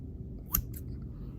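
Scissors snip once through embroidery thread on a felt whale plushie, a single short close cut in an otherwise quiet room.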